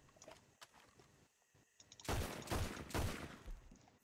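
Pistol gunfire in the Red Dead Redemption 2 video game: quieter shots early, then a loud, sustained cluster of rapid, overlapping reports in the second half, close and harsh with no talking.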